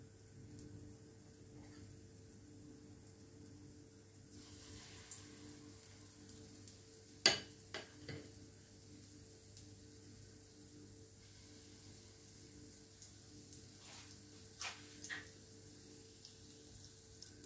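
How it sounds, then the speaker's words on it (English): Banana fritters frying in hot oil, a steady low crackle and hiss running throughout with a few sharp pops and clinks, close and fairly quiet, with no talk. "so this don't take long to fry now"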